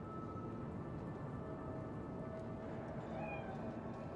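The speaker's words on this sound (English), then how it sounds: "It's just a cat." A cat meows in the video game Cyberpunk 2077, a few plaintive calls over a steady ambient game background.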